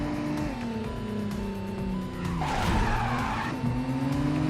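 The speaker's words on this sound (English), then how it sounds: "Sometimes you hit the handbrake in this thing and it will slide" A car in the video game Midnight Club 2 skidding under the handbrake, tires squealing over a droning engine whose pitch drops and rises as the car slides, loud and close.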